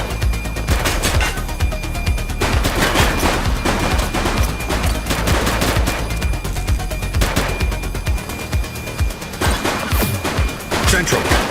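Heavy, sustained gunfire from the video game The Precinct, dense crackling shots and bursts packed close together at high volume, with voices speaking over the shooting.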